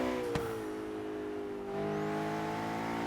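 A mid-engined sports car, 2017 Ford GT or McLaren 650S, pulls hard in third gear on a rainforest road, its steady engine note rising in pitch across the run, loud and close with no talk.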